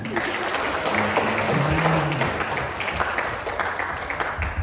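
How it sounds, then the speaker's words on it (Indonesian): An audience claps at a sharing and discussion session on overthinking in Semarang, a loud, sustained round of applause from a room of listeners, with some background sound mixed in. "Tepuk tangan."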